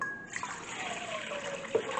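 Warm water pours steadily into a bowl for a double batch of pizza dough, a continuous close trickling stream with a few small splashes, no talking.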